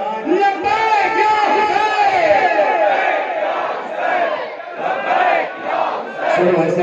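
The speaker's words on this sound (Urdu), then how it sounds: "جس کا حسین وارث ہے ذرا وہ ہاتھ اٹھا کر لبیک یا حسین کے نعرے لگا" A large crowd at a 3 Shaban religious gathering in an imambargah in Lahore chants Labbaik ya Hussain loudly and close by. The voices rise and fall together in repeated unison swells with a slight echo.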